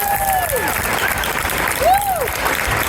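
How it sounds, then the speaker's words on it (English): A crowd at an interfaith iftar applauding steadily throughout, with brief whistles rising over the clapping. "So big round of applause."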